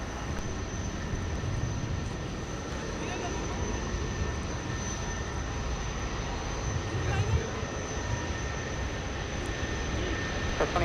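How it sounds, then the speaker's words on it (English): Eastern Air Express Boeing 737-400 departing runway 30 left at Minneapolis–Saint Paul airport, a steady, loud jet engine roar that holds throughout with slight swells, under a speaking voice. "our Eastern Air Express 737-400 is now departing runway 30 left"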